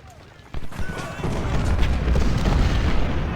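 Cannon booms from Ultimate General: Civil War, Union side at the First Battle of Bull Run, a sudden blast followed by a rolling, sustained rumble of battle, moderately loud, with a voice talking over it.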